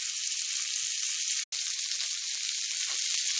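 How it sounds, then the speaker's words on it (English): Steaks searing in a hot pan give a steady, loud sizzle and crackle that fills the clip, broken only by a brief dropout near the middle. "So we want to get a nice sear on these."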